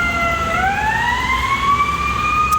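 A wailing emergency siren rises slowly in pitch over steady background rumble, clear and fairly close.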